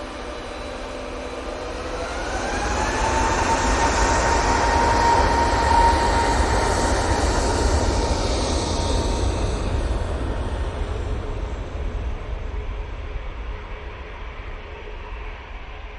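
An Airbus A321neo takes off from Manchester Airport, its engine roar rising over the first few seconds into a loud, sustained broadband rumble with a rising whine, then slowly fading as it climbs away.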